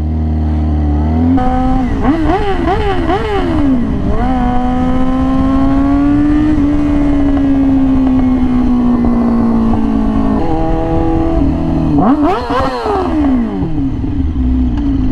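Yamaha R6 sport bike with an extremely loud aftermarket exhaust, revved in sharp rising-and-falling bursts and then held in a long steady drone, very close and dominating throughout.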